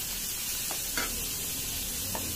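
Cabbage and carrot fry in a pan for Maggi noodles, a dense continuous sizzle with a few brief louder stirring scrapes.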